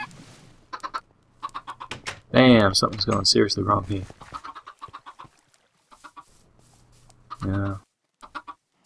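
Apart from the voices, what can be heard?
chickens clucking in a video game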